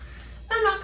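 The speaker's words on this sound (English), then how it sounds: "Fill it up with water." Water pours into a plastic sensory bottle holding heavy rocks, a short splashing, gurgling fill that starts abruptly halfway through and stays fairly close and steady.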